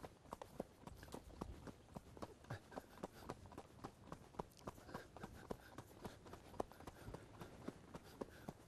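A ridden four-year-old horse moves along steadily, its hoofbeats coming as a regular rhythmic series of soft thuds over quiet background, with no talking.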